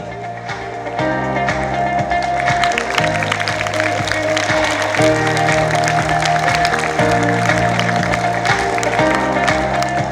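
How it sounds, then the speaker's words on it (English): Audience applause for teachers at a Teachers' Day celebration at an academic institution, a broad wash of crowd clapping layered over loud, steady music with sustained tones. "We once again request you to give another big round of applause for all our teachers."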